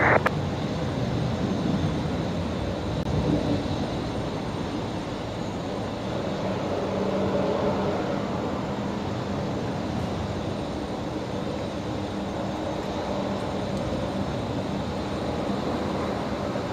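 A Qantas jet departing Brisbane Airport, its engine roar a steady, broad rumble that holds evenly throughout, moderately distant with no voices.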